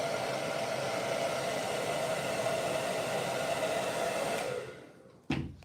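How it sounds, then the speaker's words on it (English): A hair dryer blows with a steady, loud whooshing hum for several seconds while heating vinyl for puppet making, then switches off, followed by a brief clunk. "the hair dryer with the vinyl"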